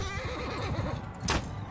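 A horse whinnies in Mount & Blade II: Bannerlord during a tournament fight, a wavering neigh over dense battle noise, with a sharp bright hit or clatter near the end.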